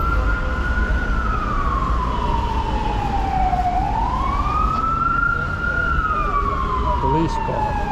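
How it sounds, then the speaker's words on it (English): A police car siren wails through a Bucharest street, loud and near, its pitch sweeping slowly down and back up over several seconds above steady traffic noise. "Police car."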